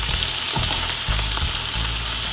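Shrimp sizzling loudly in a pan with green seasoning, flipped and stirred, for a continuous close frying hiss broken by a few scraping turns.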